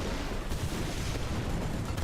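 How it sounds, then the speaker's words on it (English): A tank explosion in War Thunder, the blast of a Chieftain tank taken out, heard as a dense, rumbling roar that holds steady and loud through the whole stretch with no voices. "Then the explosion of the Chieftain masks the Striker here"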